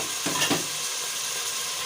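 Onion, green chili and cashews frying in a pan for chicken malai handi, a steady soft sizzle with a couple of brief stirring scrapes near the start.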